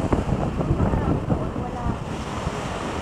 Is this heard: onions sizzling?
no